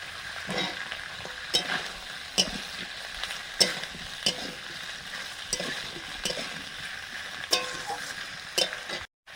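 Ginger paste and chopped tomato are added to lightly fried vegetables in a pan, giving a soft, steady sizzle broken by repeated sharp scrapes and knocks of stirring.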